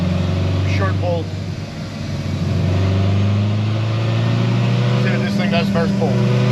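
A tuned RPM Stage 4 Chevrolet Corvette C7 Z06 on pump gas drones loudly and steadily, its engine note rising across the pull, with faint voices briefly audible over it.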